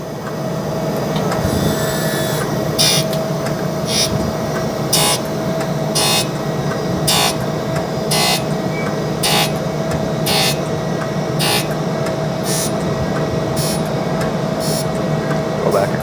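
A metal workpiece on a milling machine takes a shallow finishing pass, cut about five thousandths of an inch deep. A steady motor hum runs throughout, with sharp bursts of cutting noise repeating at a regular pace, close and continuous.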